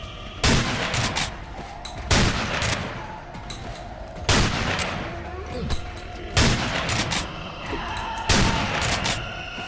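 Shotgun fire in the Underhell video game, six heavy blasts spaced a second or two apart, each with a booming tail, loud and close over a low background rumble.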